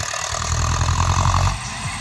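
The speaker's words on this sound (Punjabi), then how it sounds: "ਇਹ ਟਰੈਕਟਰ ਬ੍ਰੇਕ ਤੇ ਮੋੜਿਆ" A tractor engine runs steadily while the tractor turns on its brake in a ploughed field, a loud, close diesel rumble that eases slightly after about a second and a half.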